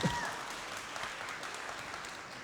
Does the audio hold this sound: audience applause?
yes